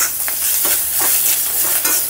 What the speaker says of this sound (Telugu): కొబ్బరి బాగా వేగిపోయేంత వరకు వేపుకోండి